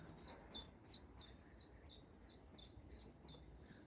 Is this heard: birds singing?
yes